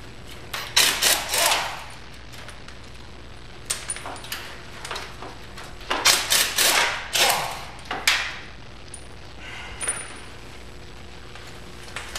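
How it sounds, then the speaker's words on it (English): A 13mm socket on a swivel removes the case bolts from an SRT T850 transmission, giving several close bursts of metallic ratcheting clicks and clinks separated by short pauses, with no talking. "now I'm using a 13mm with a swivel,"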